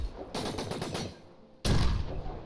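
Gunfire from a gun in the video game The Signal from Tolva, a rapid burst of close, loud shots followed after a short pause by a second heavy burst, with no talk.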